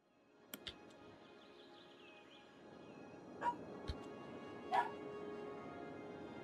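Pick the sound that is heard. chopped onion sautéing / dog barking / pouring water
dog barking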